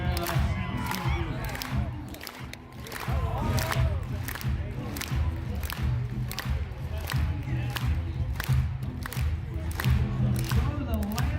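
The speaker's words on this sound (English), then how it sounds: "Clap your hands to the beat of the music." A rodeo arena crowd at a PBR bull riding event in Bangor, Maine claps in unison to pounding music, sharp rhythmic hand claps repeating steadily over loud music and cheering.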